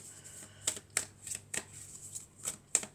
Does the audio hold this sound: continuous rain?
no